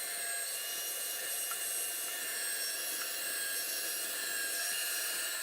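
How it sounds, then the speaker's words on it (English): A meat grinder runs continuously as deer meat goes through for a second grind, giving a steady, loud, unbroken motor whine and whir throughout, with no talk. "we're going to put that back in the hopper and we're going to push it through for the second grind"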